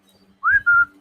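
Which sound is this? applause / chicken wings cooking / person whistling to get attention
person whistling to get attention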